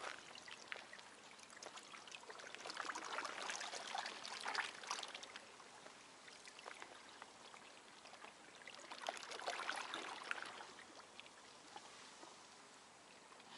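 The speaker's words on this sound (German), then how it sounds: "Das schöne Wellenplätschern hier." Small waves lap softly at a calm, windless beach in Ksamil, Albania, a faint continuous wash of water that swells twice and then eases, with no voices.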